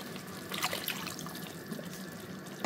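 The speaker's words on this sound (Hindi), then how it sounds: "इसमें पानी शामिल करी हूँ 1 कप के करीब" Water is poured from a ketchup bowl into a pan while a restaurant-style chicken Manchurian is cooked, a steady close splashing pour lasting a few seconds with brief louder bursts.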